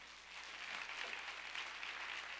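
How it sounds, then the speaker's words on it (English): Church congregation clapping hands during a worship service, a steady continuous wash of clapping heard faintly at a distance. "Come on, clap your hands."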